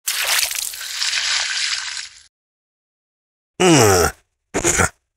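Cold water is splashed onto an unconscious man in a loud two-second rush, then after a silence a voice groans and utters a short sound.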